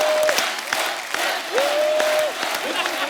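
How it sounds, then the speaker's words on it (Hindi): A studio audience applauds on the set of The Kapil Sharma Show, a Hindi TV comedy show. The dense clapping runs steadily throughout, with a sustained musical tone sounding over it twice. "जोरदार तालियां शानुदा के लिए।"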